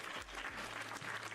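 A canned applause sound effect on a Minecraft live stream, a quiet, short burst of crowd clapping and cheering with no voice over it.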